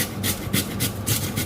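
Raw potato grated by hand for a no-oven, no-flour pizza, giving steady rhythmic rasping strokes roughly every half second, close and moderately loud with no voices.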